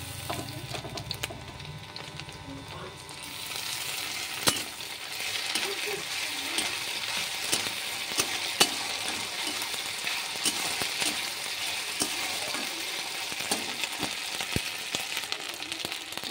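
Ginger garlic paste frying in hot oil, a steady bright sizzle that swells after a quieter start and keeps up with small pops and clicks from the pan throughout.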